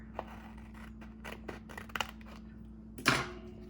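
Scissors cut paper for a pocket Moleskine planner setup, giving several soft snips, then a sharper, louder cut near the end. The sounds are close and quiet, with no one speaking.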